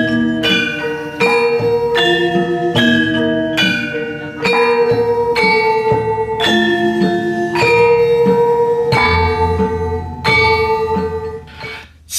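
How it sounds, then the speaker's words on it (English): A kenong, the bronze cradle gong of a Gamelan orchestra, is struck in a steady beat-keeping pattern, each loud ringing tone sustaining and overlapping the next across about a dozen seconds, with no voices. "Kenong is a cradle gong similar to the Bonang, and is an important beat keeper in the Gamelan rhythmic structure."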